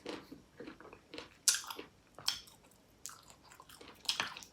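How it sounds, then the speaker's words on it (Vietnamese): Someone biting into a chili pepper at close range, a few sharp crunches followed by wet, squelchy chewing in a quiet setting. "Cắn vô miếng ớt đúng chuẩn luôn."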